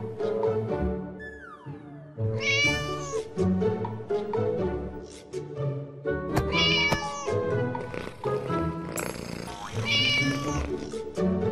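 A kitten meows repeatedly in clear, high-pitched calls, some drawn out and plaintive, close and loud with short pauses between cries, alone without talk.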